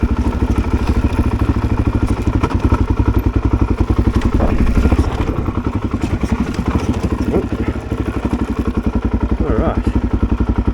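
A Suzuki DRZ400 dirt bike engine thumps loud and close with a fast, even pulsing beat on a dirt road near Duck Creek Road, the rhythm steady throughout.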